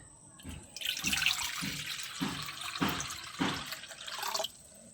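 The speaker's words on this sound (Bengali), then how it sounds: "এবার একটা বাটিতে জল দিয়ে নেব" Water pours into a bowl for soaking washed potatoes, a close splashing stream that pulses unevenly and then stops abruptly.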